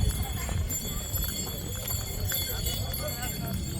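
Steady clip-clop of horse hooves on the Kedarnath temple trek path in India, continuous and fairly close, with people talking over it and a constant outdoor noise underneath.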